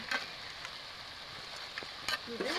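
Fried fish heads being stirred into a tomato masala in a pan, giving a soft, steady sizzle with a few scraping stir knocks close by and no talking.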